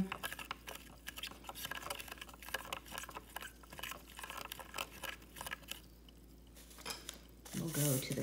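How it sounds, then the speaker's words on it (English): Close spoon stirring and scraping through sugar-and-vinegar mixtures in kitchen containers, a quick run of light clinks and wet swishes, ending with a brief louder clatter; a voice speaks quietly underneath. "Stirring."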